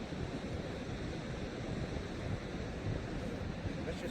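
Water rushing steadily through a gold sluice as rocks are washed, a continuous dense wash of splashing and flow with no pauses, moderately close.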